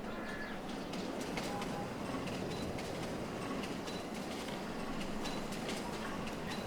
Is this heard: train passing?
yes